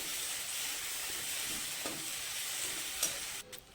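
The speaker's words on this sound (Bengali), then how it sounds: "আমার মশলাটা সুন্দর কষে গেছে" Masala paste for prawn malai curry frying in oil in a pan, giving a steady close sizzle and hiss throughout, with a few faint stirring scrapes and a brief clatter near the end.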